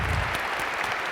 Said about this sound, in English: Oh, he's clapping you back, Adam.